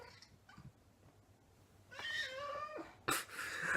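A cat meows twice near the end, a drawn-out whining call followed by a sharper cry, in an otherwise quiet room.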